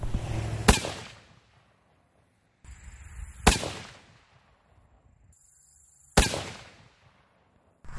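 A .30-06 rifle firing Terminal Ascent loads over Reloder 23 powder, three loud, sharp shots spaced a few seconds apart, each with a quick decaying outdoor echo and quiet gaps between.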